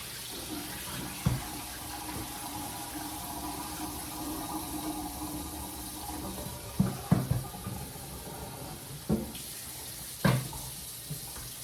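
A tap runs steadily into a sink while sorrel is washed, a soft continuous water rush broken by a few louder knocks and clunks of handling, quiet and close, with no talk.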